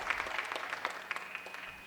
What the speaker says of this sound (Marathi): आमच्या अमोलदादांसाठी टाळ्या वाजवा